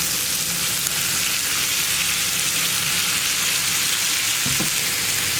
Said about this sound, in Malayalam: നമ്മൾ കട്ട് ചെയ്ത് വെച്ചിരിക്കുന്ന കോളിഫ്ലവർ നമുക്ക് പാനിലേക്ക് ഇട്ട് കൊടുക്കാം